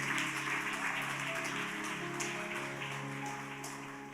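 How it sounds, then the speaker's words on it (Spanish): A church congregation applauds during a sermon, a steady wash of clapping over soft sustained music that slowly fades toward the end. "Un aplauso."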